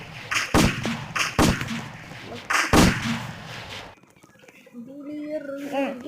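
Several loud gunshot blasts ring out in a Squid Game video game, four sharp booming reports in the first few seconds, followed by quieter game sounds with talk over them.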